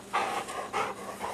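A dog pants in quick, breathy bursts close by, three or four rough puffs in a row with no talking.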